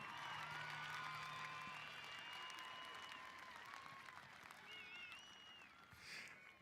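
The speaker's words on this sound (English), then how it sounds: "let's give them a big round of applause for all the support and love they've offered you" Crowd at the Ponderosa High School 2025 graduation applauds families and friends, sustained distant clapping with occasional whoops and cheers over a faint hum.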